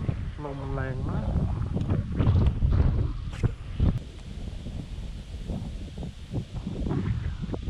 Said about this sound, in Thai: ลมพัดมาทิ้งฟู่ฟู่ฟู่ไม่ไหวครับ